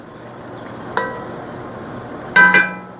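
Onions for French onion soup cooking in a pot, a soft steady sizzle with occasional sharper stirring scrapes and clinks, close and without talk.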